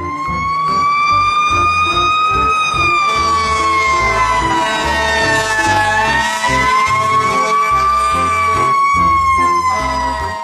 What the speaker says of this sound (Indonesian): lihat teman-teman, ada truk pemadam kebakaran